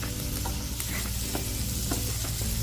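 Samgyeopsal pork belly sizzles steadily in a square frying pan, a close, continuous crackle with a few sharper pops and no voices.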